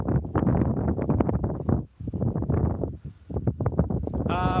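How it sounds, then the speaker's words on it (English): Strong wind gusts buffet the microphone outdoors at a summer snowboard park in Zermatt, producing loud, uneven low rumbles that drop away twice for a moment. "Oh guys, it's getting so windy here."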